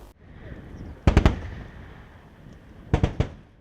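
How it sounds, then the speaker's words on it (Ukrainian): Artillery fires during a military training exercise at a range: two clusters of sharp, rapid bursting reports ring out over a low rumbling background, moderately distant. "Ось тут вступає в дію артилерія."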